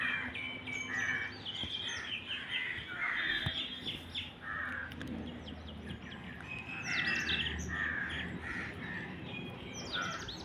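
Birds chirp and call repeatedly, a mix of bright tweets and occasional crow caws, fairly close, over a continuous low rumble of outdoor noise.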